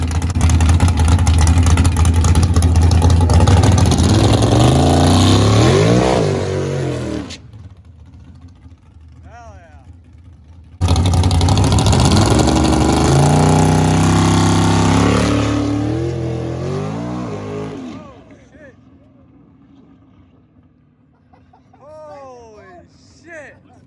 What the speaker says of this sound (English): I did a nasty burnout on this thing and then almost wrecked it